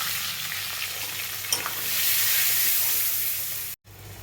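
Cumin, turmeric and green chillies fry with garlic in hot oil, a loud continuous sizzle and hiss with a sharp spatter near the start, broken by a brief cut near the end.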